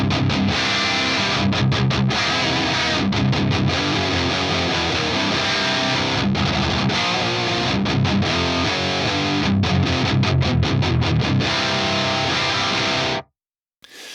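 Distorted electric guitar through a Fractal AX8 Rectifier amp model with speaker drive, motor time constant and speaker compression, loud tight palm-muted chugs and short stops before ringing off and cutting out.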